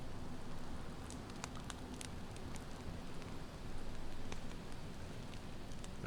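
Rain patters steadily in the video game DayZ beside a crackling campfire, a soft, even hiss broken by small pops and sharp snaps.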